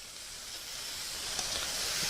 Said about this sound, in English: You can see the sizzle coming out of them.